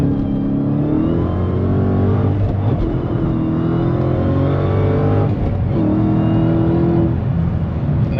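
A Dodge Hellcat with a 6-speed manual revs at part throttle, its deep, loud engine drone holding steady and rising in gentle waves, heard up close and continuous.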